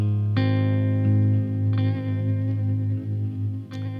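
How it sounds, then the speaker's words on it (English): Electric guitar through a Baklengs granular delay pedal, plucked notes ringing into a murky, wavering modulated delay with smeared repeats, fairly loud and alone. "That's just some kind of a murky modulated delay."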